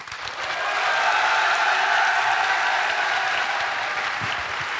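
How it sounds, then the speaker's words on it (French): A studio audience at a live tabletop role-playing game show claps hard and steadily, a thick wall of applause that swells in the first second and holds at full strength, with possible shouting mixed into the roar. "Applaudissez le plus fort possible, gueulez s'il vous plaît"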